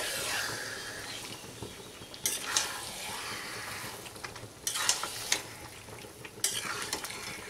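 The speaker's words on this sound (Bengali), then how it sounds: "মিক্স করে নেব।" A chicken mixture is stirred in a hot pan, a continuous sizzle broken by repeated scraping strokes of the spoon against the pan.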